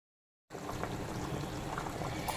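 Water pours into a pot of village-style country chicken curry, a steady rushing pour that starts abruptly after a short silence and continues evenly to the end.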